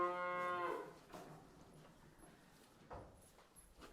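A young bull calf gives one clear, close moo at the start, followed by faint shuffling and hoof steps on a farm.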